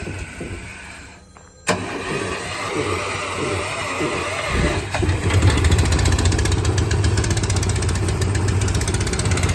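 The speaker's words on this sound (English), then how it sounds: "Firing up the compressor there." A remote-started air compressor fires up on a 2012 Ford F-450 crane service utility truck, a sudden start that settles into a loud, steady mechanical running drone close by.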